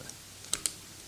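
Two quick, light mouse clicks placing brush points in a photo editing program, sharp and close, separated by a short pause over a faint hiss.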